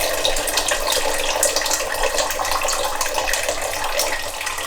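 Wort from a brew-in-a-bag pale ale streams steadily out of a lifted grain bag into a second pot, a continuous close, fairly loud pouring and splashing with no talking.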